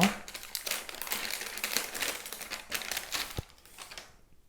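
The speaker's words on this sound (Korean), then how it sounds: "비닐이 하나 쌓여있고 뜯어서 한번 보도록 할게요" Thin plastic wrap is torn and peeled off a packaged ESR iPhone 11 case with a tempered glass back. The crinkling and rustling is close and irregular, with crackling bursts and a sharp tap near the end before it falls quiet.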